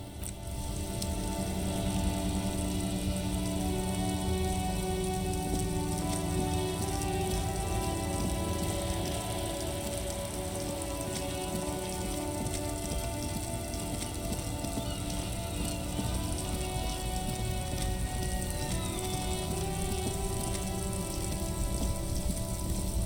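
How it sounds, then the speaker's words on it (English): Steady, dense rain in a video game hisses throughout, a constant wash of patter with a faint low rumble beneath, no pauses. "Stuck in the rain in a traffic jam, man."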